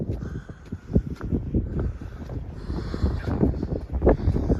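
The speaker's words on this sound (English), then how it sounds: "That wind is pretty stiff today." Stiff, strong wind gusting steadily by a riverside, buffeting the microphone with continuous low rumble and occasional louder gusts, no one speaking.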